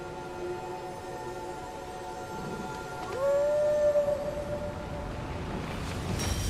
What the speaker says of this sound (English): We got a nice little doggy howl at the end there.